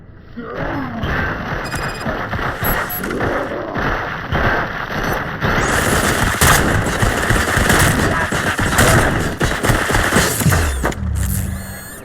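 Sustained rapid machine gun fire in the RoboCop: Rogue City video game, loud and dense bursts running nearly the whole time with booming impacts and game sounds.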